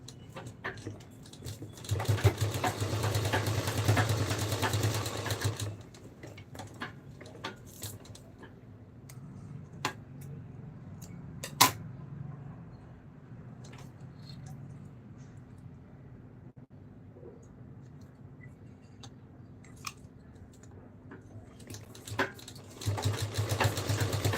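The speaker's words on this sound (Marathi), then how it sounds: "पुन्हा ह्याला मी एकदा व्यवस्थित स्टिच करून घेते म्हणजे कुठे शिलाई वगैरे उसवली जाणार नाही" Sewing machine stitching a belt onto a small dress for a Janmashtami outfit, running in a steady loud burst at the start and again at the end, with a quieter hum and faint clicks in between.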